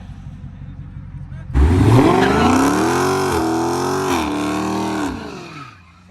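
A Dodge Scat Pack sliding with its tires squealing, a loud rising howl of rubber and engine that holds for several seconds before fading, with people talking over it.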